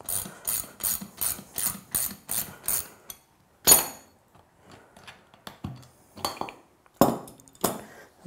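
A wrench works the clamp on a Pentair Südmo single seat valve, starting with a rapid run of about nine crisp ratcheting clicks, then a sharp metallic clank and a few scattered knocks and scrapes, all close and fairly loud with no talk.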